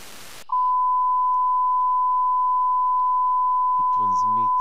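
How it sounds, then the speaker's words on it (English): A radio beacon received on a USB DVB dongle used as a software-defined radio gives a steady, narrow pure tone that holds for about four seconds after a burst of static, with a voice starting near the end. "It transmits a very accurate signal, a very narrow one, simply a beep."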